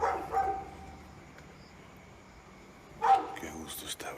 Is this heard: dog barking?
yes